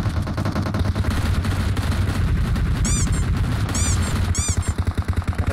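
Rapid automatic gunfire rattles in PUBG Mobile, loud, close bursts of fast shots fired almost nonstop, with a few sharp whizzing ricochet-like tones mixed in.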